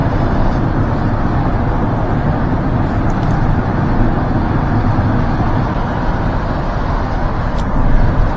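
Inside a Kia EV9 electric car cruising in eco mode on rear-wheel drive, a loud constant road and tyre rumble fills the cabin, with a brief faint click near the end.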